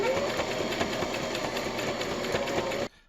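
A sewing machine runs steadily at speed with a fast rhythmic clatter, close by, then stops abruptly near the end.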